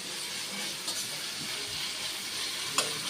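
Dried shrimp fry in a pan over a medium flame for a ridge gourd curry, giving a constant soft hiss and sizzle with an occasional faint crackle.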